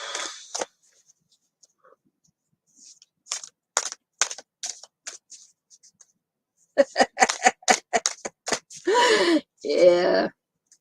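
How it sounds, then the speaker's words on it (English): Tarot cards shuffled by hand make close, dry, clicking bursts of flicks and riffles with gaps of silence between them, followed by a couple of breathy exhalations. "I'm shuffling the cards here as we're sort of thinking about things"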